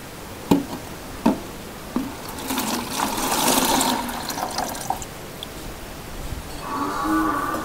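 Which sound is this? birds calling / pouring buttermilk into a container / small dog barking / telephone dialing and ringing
pouring buttermilk into a container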